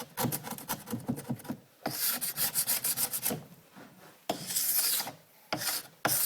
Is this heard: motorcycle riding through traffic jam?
no